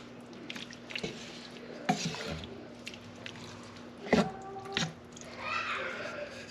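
Baked ziti sauce with a pinch of salt is stirred in a pot, soft wet squishes and scattered spoon clinks against the metal, quiet and close over a faint steady hum.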